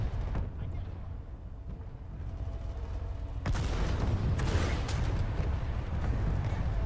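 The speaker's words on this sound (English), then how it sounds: "a couple good Prowler shots can really start turning the tide" Prowler tank cannon shots in a PlanetSide 2 style online shooter battle, a dense rumble of heavy booms and gunfire thickening midway, loud and continuous with no distinct single blast, under faint voices.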